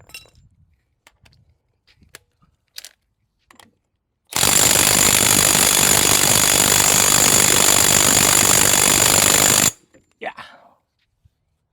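A Craftsman cordless impact tool on a fresh battery hammers at a stubborn ball joint nut, a loud continuous rattling burst of about five seconds, with light clinks and brief speech before and after.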